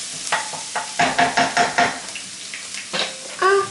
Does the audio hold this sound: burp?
no